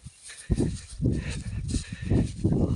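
Heavy water buffalo hooves plod steadily across ground, a slow rhythm of dull thuds close by, with outdoor background noise and no talking.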